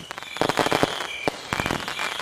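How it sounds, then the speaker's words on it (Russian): Rapid bursts of crackling pops from fireworks in Minecraft, clustered in quick volleys over a couple of seconds with a faint steady whistle-like tone behind them. "Сейчас мы запустим традиционный салют, после которого вы начнете строить."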